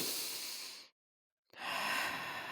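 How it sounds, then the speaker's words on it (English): A slow, deep breath drawn in and let out near the microphone during a calm guided meditation, an inhale and a long exhale separated by a short silent pause. "First, take a deep breath with me."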